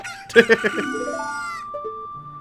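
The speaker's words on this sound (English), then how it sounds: "Where is that chicken sound coming from? I swear I keep hearing it." A chicken in Zelda: Ocarina of Time gives a short burst of clucks and then a drawn-out squawking call. The sound is loud, close and heard alone, with a synthetic game-audio quality.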